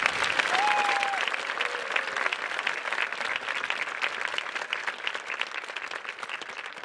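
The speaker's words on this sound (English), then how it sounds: "Can we please get a round of applause for all of our members of our concert choir" A large crowd applauds steadily at an outdoor high school graduation ceremony in a stadium, a sustained wash of clapping that gradually thins slightly, with a brief whistle or cheer near the start.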